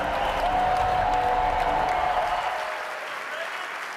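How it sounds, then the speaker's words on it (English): An audience at a keynote event breaks into loud, dense applause for a storyteller taking the stage, sustained for a couple of seconds and then gradually fading. "bring to the stage with an amazing applause"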